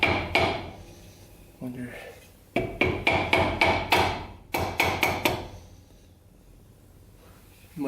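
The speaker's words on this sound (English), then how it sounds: "see if I can hit the piston down" A hammer strikes the piston of an old, long-abandoned gas-powered Harley engine in two bursts of rapid, sharp metallic blows, loud and close, with a brief spoken word in between.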